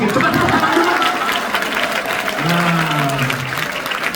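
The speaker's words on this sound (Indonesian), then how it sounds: "Coba tepuk tangan dulu." A church congregation claps together in a steady wash of applause, with a voice speaking over it and a low sustained tone running underneath.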